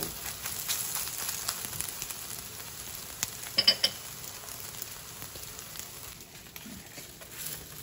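Soy curls sizzle steadily in a hot pan, a constant crackling hiss with a brief louder scrape of stirring partway through; no voices.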